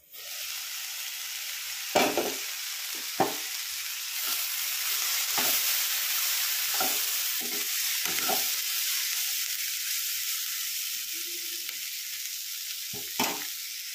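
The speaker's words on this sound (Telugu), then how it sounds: "ఇప్పుడు కొద్దిగా ఫ్రై అయినాయి కదా, టమోటాలు అయితే వేసుకున్నాము. టమోటాలు వేసుకున్నాక తర్వాత కలుపుకోవాలి." Tomatoes fry in a pan with a steady, hissing sizzle, broken by a dozen or so sharp scraping stirs spaced irregularly, close by, with no talking.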